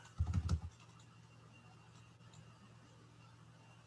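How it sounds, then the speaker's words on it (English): A short burst of a few quick keystrokes on a computer keyboard, the function key being pressed, near and fairly loud at the start, then faint room hum for the rest. "A function key F5 on the keyboard."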